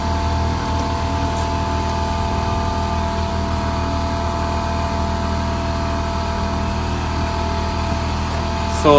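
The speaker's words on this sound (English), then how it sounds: "So I'll let the air compressor fill back up before I go into the next tire." A Porter-Cable 6-gallon, 150 psi air compressor refilling after tire shine spraying, a loud, steady motor drone with a continuous hum that runs unbroken throughout, close by.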